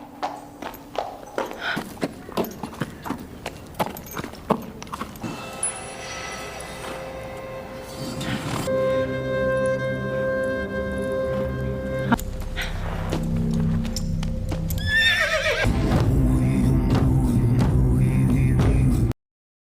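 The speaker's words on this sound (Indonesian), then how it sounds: "seorang pria berkuda datang menjemput" Horse hooves clip-clopping in a quick, even rhythm for several seconds, followed by sustained tonal music-like sounds and a whinnying neigh near the end, fairly close and clear.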